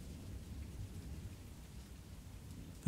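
Rain falls steadily outside a manor, a low, even rumbling patter that fills the background with a faint thunder-like roll and a small knock at the very end.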